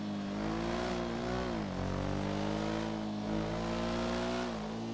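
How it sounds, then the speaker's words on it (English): A tight-sounding motorcycle engine in a police cruising video game revs continuously, its pitch rising and falling with throttle, loud and steady throughout. "Absolutely love the way this guy sits on it and the way it sounds with, like, that nice engine. Very tight-sounding engine."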